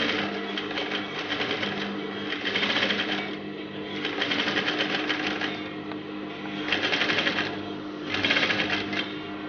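Up close, a sewing machine stitches an invisible zip in several bursts of rapid, rattling needle whir separated by brief slower pauses.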